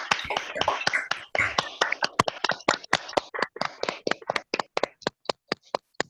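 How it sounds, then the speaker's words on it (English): Several video call participants unmute and clap hands, a burst of overlapping applause that thins into a sparse run of distinct, sharp individual claps spaced roughly evenly toward the end. "I just want you to unmute yourself and clap, clap, clap for yourself"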